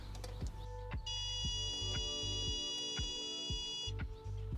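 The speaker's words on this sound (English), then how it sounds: "It's gonna toggle the beeps on, and it'll turn on all the lights on the parktronic." A car's parking sensor gives a steady electronic tone for a few seconds, with regular clicking ticks underneath, close and fairly quiet.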